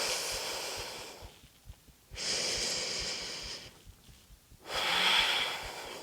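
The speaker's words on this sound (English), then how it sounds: "Deep breaths here." Slow, deep breaths during a yoga flow, heard alone and close: two long, airy exhales separated by quiet inhales in a steady, unhurried rhythm.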